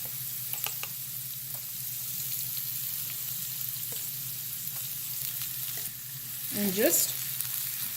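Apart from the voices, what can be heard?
minced garlic sizzling in a pan for saag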